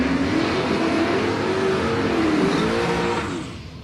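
Drag car with a 372 cubic inch Chevrolet V8 in a Holden UC Torana roars loudly at a street drag event, the engine note rising and sweeping steadily before tapering off near the end.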